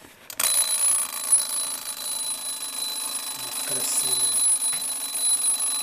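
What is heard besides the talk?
mechanical alarm clock ringing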